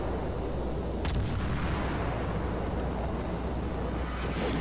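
Naval artillery booms in the World of Warships game, a dull distant thud of ship guns buried in a dense, constant roar of battle noise.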